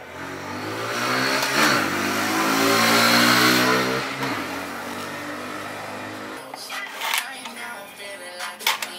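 A GY6 150cc scooter engine fitted with a custom exhaust revs up loud and close, rising and falling in one long swell, then drops to a choppy idle with short blips of throttle.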